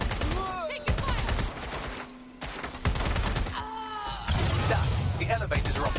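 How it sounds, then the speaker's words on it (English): Dense gunfire in the video game Watch Dogs Legion, rapid automatic bursts and sharp shots crowding together, loud and near, with in-game voices calling out over the shooting. "Taking fire!"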